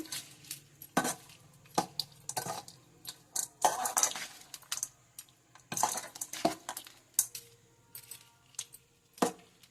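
Gongura tamarind rice being mixed in a metal vessel with a spoon, an uneven run of close scrapes, clinks and taps of spoon on pot, no voices.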